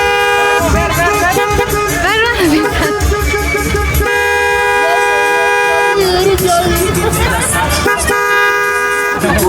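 Loud, repeated car horn honks blaring over busy street traffic, with voices talking nearby throughout.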